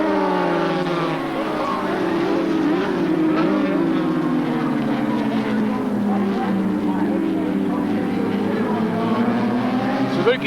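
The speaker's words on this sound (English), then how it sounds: "look at the bike shake down the back straight. They are hitting 240 kilometres an hour." A racing motorcycle from the 1984 Swan series screams at full speed, about 240 km/h in fifth gear, down a circuit's back straight. The engine note is loud and sustained, with a wavering pitch, and a faint commentary voice may sit underneath.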